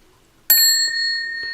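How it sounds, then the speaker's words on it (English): Old telephone's outer bell struck once by the clapper, giving a bright, close metallic ding that rings on steadily with a long sustain, heard alone. "and that's the outer bell."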